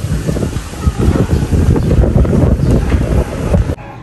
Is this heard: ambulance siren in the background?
no